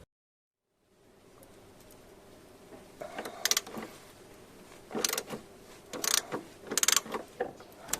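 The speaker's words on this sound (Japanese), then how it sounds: "ジャッキでトーションビームを支えて、18ミリのソケットでボルトを外します。" A socket wrench with an 18 mm socket ratchets a bolt out of a jack-supported Volkswagen rear torsion beam, giving several short bursts of close clicking over a faint background hum.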